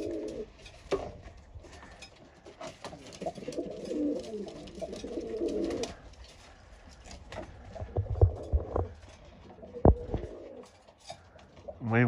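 Pigeons cooing in a garden, a run of soft, low, rolling coos close by with a few sharp knocks and rustles near the end.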